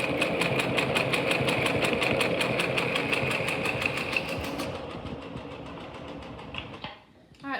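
An electric sewing machine stitches the edge of a fabric face mask, running with a fast even mechanical whir and rapid needle rhythm for several seconds, then slowing and stopping near the end.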